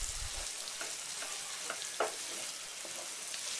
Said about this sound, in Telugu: ఆ ఆయిల్లో వేసుకుని బాగా ఫ్రై చేయండి